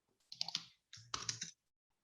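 Two quick bursts of clicky keystrokes on a computer keyboard, close and fairly quiet, separated by a short pause, with no talking.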